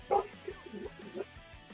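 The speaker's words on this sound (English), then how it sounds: "My dog started going off on a barking tirade" A dog barks and yips in short bursts, loudest at the start and then repeating more softly through the rest of the clip, picked up indoors beside a card-game session.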